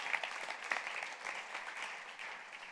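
A church congregation applauds during a sermon, giving steady, dense clapping that holds at an even, moderate level for about three seconds, with a few sharper claps near the start.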